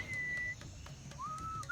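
In the video game Sam & Max Beyond Time and Space, two sustained whistled notes, the second sliding upward, sound clearly over faint steady background noise with soft regular clicks.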